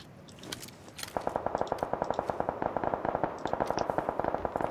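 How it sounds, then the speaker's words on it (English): Automatic gunfire rattles in PUBG, a fast, even run of sharp cracks starting after a second and continuing steadily at moderate distance, with no talking over it. "I think they're getting shot at"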